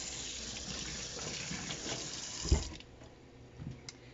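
Apples being rinsed under a running kitchen tap, a steady gush of water splashing into a sink that thins and quiets near the end, with a brief knock partway through.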